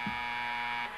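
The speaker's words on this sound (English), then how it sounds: "there goes our 30-second buzzer" A game show buzzer sounds on a children's television programme when a 30-second time limit runs out, one steady electronic tone of about a second that drops off at the very end.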